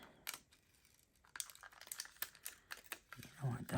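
Packing tape pulled off a roll for an infinity card craft: a series of sharp crinkly rips and crackles in short bursts, fairly close and quiet, with brief handling noises between them.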